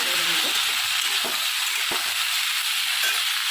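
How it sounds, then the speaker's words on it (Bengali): Washed vegetables fry in turmeric-tinged oil, a constant close sizzle broken by a few sharp stirring knocks against the pan. "সবজিগুলো ভাজা হয়ে গেছে"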